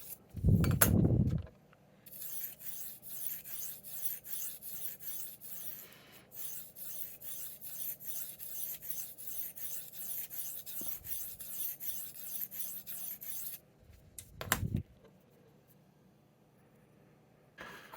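A knife blade being sharpened on a Work Sharp field sharpener, a long run of rapid, even rasping strokes close up, framed by a couple of louder thumps or handling noises at the start and end.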